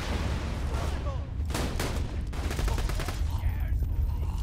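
Gunfire and explosive blasts in a firefight in Borderlands 2 on the Eridium Blight, with a grenade thrown, a steady rattle of rapid shots and a few sharper bursts, loud and continuous throughout.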